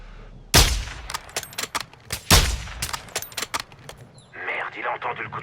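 A sharp gunshot followed by a rapid burst of loud, close firing in Call of Duty: Modern Warfare 2, with clanging impacts, then a voice speaking briefly at the end.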